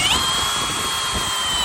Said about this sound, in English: I just mark it with the drill